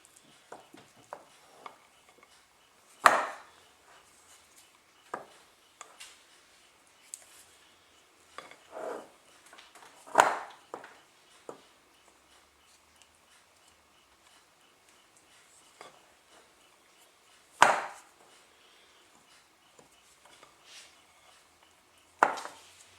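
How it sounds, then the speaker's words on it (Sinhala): A utensil scrapes and clinks against a bowl while pumpkin scone ingredients are mixed, in scattered soft strokes with a few sharper knocks in a quiet kitchen. "දැන් මේ ඔක්කොම හොඳට කලවම් කරගන්න ඕනේ."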